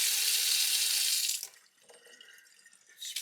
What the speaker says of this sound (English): So this faucet is kind of like a commercial kitchen sprayer and faucet.